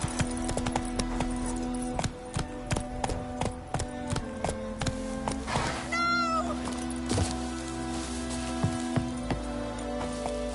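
Horse hooves clip-clopping at a steady trot in The Witcher 3, evenly spaced hoofbeats over a constant game ambience, with a brief animal cry partway through.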